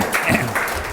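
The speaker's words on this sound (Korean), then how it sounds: "큰 박수로 한번 소개할까요?" A brief burst of audience applause welcoming a speaker at a Korean study group session for fire engineering exam passers, dense and close for about a second.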